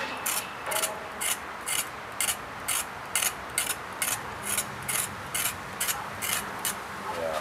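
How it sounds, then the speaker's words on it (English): A whole piece of carrot being scraped with a blade in an outdoor bush kitchen, in steady rhythmic rasping strokes roughly twice a second, close and fairly loud. "We are going to put this whole piece of carrot. It's a slight scrape."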